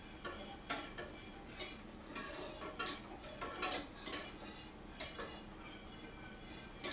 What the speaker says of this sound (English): you whisk that in till everything's incorporated and melted